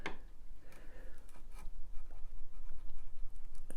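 A chisel pares a thin shaving across the grain of pallet wood, giving a soft, continuous scraping rasp with a few brief sharper scratches, close and fairly quiet.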